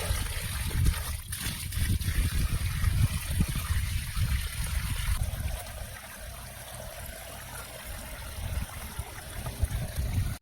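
A running tubewell pours water into a large dug pit, giving a steady, dense rush and gurgle of flowing water that continues without a break.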